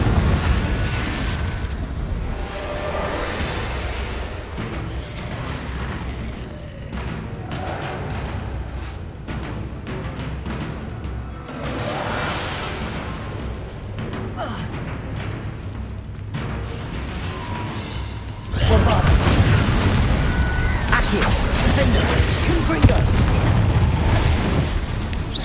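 Repeated fiery blasting-curse explosions in Hogwarts Legacy on PS5, loud rumbling booms layered over a continuous game soundscape, growing denser and louder in the final stretch.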